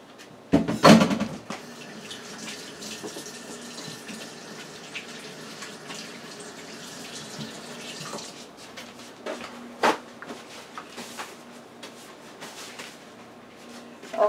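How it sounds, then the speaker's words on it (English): Hands being washed under a running kitchen tap while preparing salmon, a steady close rush of water that lasts several seconds and then stops, followed by faint handling noises and a few clicks. "Let me wash my hands."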